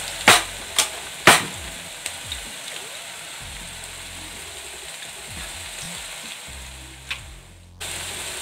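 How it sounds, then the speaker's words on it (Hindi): Steady soft sizzle of potatoes frying in a pan, with a few sharp clinks of a utensil early on and another near the end. "एक साइड आलू फ्राई हो रहे हैं"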